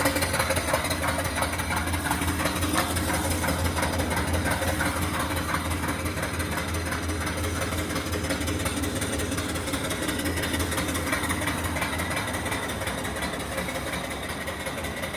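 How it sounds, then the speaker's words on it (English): A small steam engine on a rare return flue horizontal boiler chugs steadily, its exhaust going up the boiler stack, a continuous rhythmic puffing and rumble that holds for the whole stretch with no pauses. "And the engine exhaust goes right up the stack"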